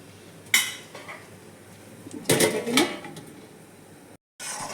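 A metal lid set onto a pot of cabbage: a sharp clank, then a louder clattering rattle of metal on metal a couple of seconds later, close and brief against a quiet kitchen background.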